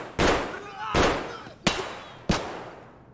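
Four loud, separate gunshots in Escape from Tarkov, each a sharp crack with a short echoing tail, spaced about two-thirds of a second apart.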